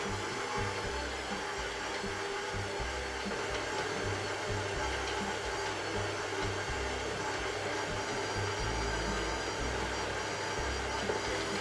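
Electric mixer on its lowest speed churning a thick chocolate truffle paste, giving a continuous, even whirring drone with no talking.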